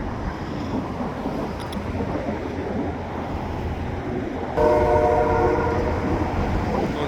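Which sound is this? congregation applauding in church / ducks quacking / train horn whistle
train horn whistle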